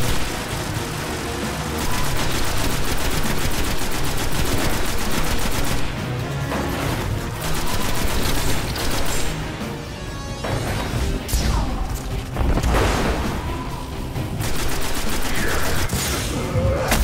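Dense gunfire in the shooter Destiny on Xbox One, with rapid continuous bursts and loud repeated shots filling the whole stretch almost without pause.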